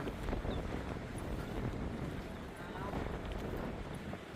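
Strong, cold wind buffets the microphone at Rhodes Memorial in Cape Town, South Africa, in a continuous low roar, with gusty rumbling that never lets up.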